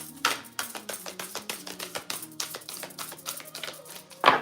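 A deck of cards being riffle-shuffled, a quick run of crisp flicking taps close by, ending in a louder snap.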